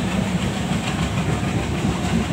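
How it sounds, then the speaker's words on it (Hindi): A Konkan Railway train rolls along on a monsoon journey, a dense, continuous rumble of wheels and carriages with faint rhythmic clatter heard from on board. "ये अपनी मैजेस्टिक कोंकण रेलवे तो ऐसे ही चलती रहेगी।"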